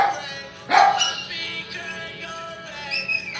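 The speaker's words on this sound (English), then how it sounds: "My puppy's in the cage, but he doesn't like being in there." A puppy shut in its cage barks sharply once, then gives a few more yips and whimpering barks. The sounds are close and fairly loud against a quiet room.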